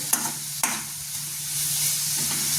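Coriander leaves fry in a pan for shavige upma, a steady sizzle with two sharp stirring clanks near the start, continuous and close with no talking.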